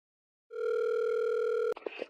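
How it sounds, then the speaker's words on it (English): A telephone dial tone sounds alone, a steady continuous hum lasting just over a second before it cuts off abruptly, followed by a brief clatter of handling noise. "the phone calls in which Mari calls her nanay, her mother"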